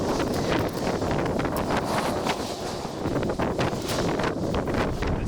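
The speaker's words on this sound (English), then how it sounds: "Wind gusts." Strong outdoor wind gusts buffet the microphone in a continuous rumbling roar, surging and easing in uneven bursts with no voices.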